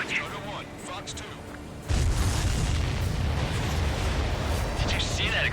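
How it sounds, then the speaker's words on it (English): A supply ship blows up in Ace Combat 7: after a quieter stretch of jet noise, a sudden loud boom erupts into a sustained roaring rumble that fills the rest of the moment. "Did you see that explosion?"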